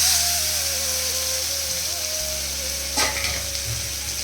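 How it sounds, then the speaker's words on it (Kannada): Boiled eggs fry in oil with salt, turmeric and chilli powder, giving a steady close sizzle throughout with a brief stir or scrape near the end, no talking. "ಚೆನ್ನಾಗಿ ಫ್ರೈ ಮಾಡ್ಕೊಬೇಕು. ಎಗ್ ಚೆನ್ನಾಗಿ ರೋಸ್ಟ್ ಆಗಿದೆ."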